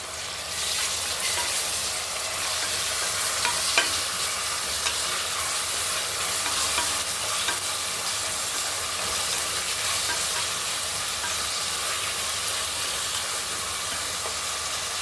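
Tomato bath, a tomato rice dish, cooks and boils in a pan with a continuous close sizzling, bubbling hiss that stays even throughout.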